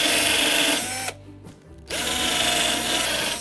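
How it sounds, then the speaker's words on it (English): A power drill with a countersink bit whirs over pilot holes in wooden chair parts, running in two close bursts separated by a brief pause, with no talking. "take my countersink over the top of the pilot holes"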